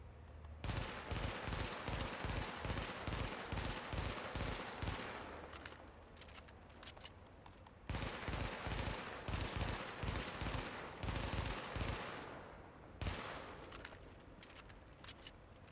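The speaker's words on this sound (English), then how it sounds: "Now I also have a burst fire MP5, so let's see how this gun reacts when fired as fast as possible" Burst-fire MP5 shooting as fast as possible in The Division: two long runs of rapid, evenly spaced bursts, loud and close. A short pause separates them, and no one speaks.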